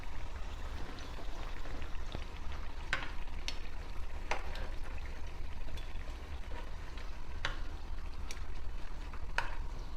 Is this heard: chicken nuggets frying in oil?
yes